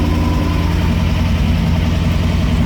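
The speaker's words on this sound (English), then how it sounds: "That's the transfer box whining there." Inside a 1972 Range Rover, the transfer box whines over a steady, loud engine drone, with a thin, faint high tone riding on the constant low rumble of the moving vehicle, no talking.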